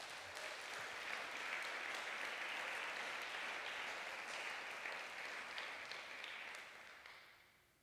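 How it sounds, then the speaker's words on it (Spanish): A church congregation applauds steadily during a sermon, a dense wash of clapping that holds for several seconds before tapering off at the end. "Dale un aplauso a Jesús."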